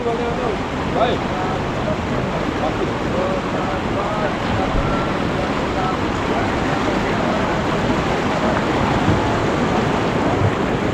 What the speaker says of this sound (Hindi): ये देखें, ये है काली नदी